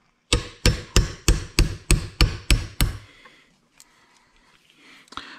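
Suspension bushings on a Cobra Daytona build are driven out with a hammer: about ten loud, evenly spaced metallic blows in quick succession, followed by a few faint knocks and handling sounds.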